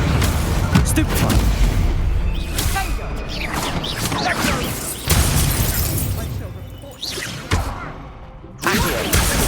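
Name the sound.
Stupefy spell cast in Hogwarts Legacy video game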